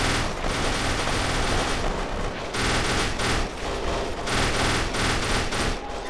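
Sustained gunfire in the Kane and Lynch 2: Dog Days shootout in Shanghai, dense overlapping automatic bursts and single shots rattling continuously with loud booming impacts and no pauses.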